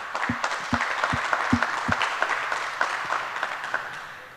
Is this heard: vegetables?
no